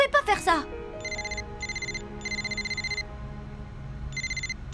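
A mobile phone rings in an animated cartoon, repeated bursts of a bright electronic trill with short gaps, loud and close, following a brief voice at the start.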